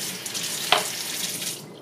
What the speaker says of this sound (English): I'll rinse it off and then I'll do it one more time under the water